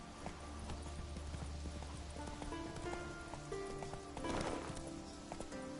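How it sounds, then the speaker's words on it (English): Roach the horse gallops in The Witcher 3 on PS4, with rapid rhythmic hoofbeats under game music and effects, fairly quiet and steady throughout. "Run, Roach."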